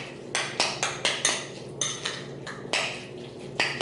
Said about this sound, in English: And then we'll stir it up.